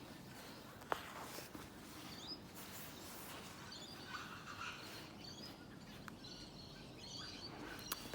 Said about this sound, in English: The birds are having a merry old time out there,